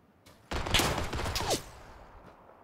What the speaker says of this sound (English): It's the auto pistol, Ian.